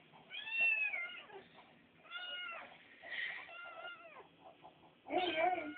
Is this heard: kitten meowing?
yes